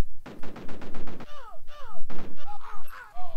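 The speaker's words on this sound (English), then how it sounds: "Let's get a nade out in there." Retro top-down war game Cannon Fodder, with a run of rapid clipped gunfire bursts, then falling whistling tones and muffled blasts from a thrown grenade, all in busy chiptune-style game audio with no talk.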